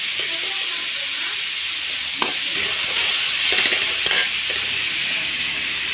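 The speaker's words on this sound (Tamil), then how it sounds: "தக்காளி நல்லா வதங்கிட்டோம்" Tomatoes sauté with turmeric in a pan for manathakkali tamarind curry. A loud, even sizzle runs throughout, broken by a few brief stirring clatters near the middle.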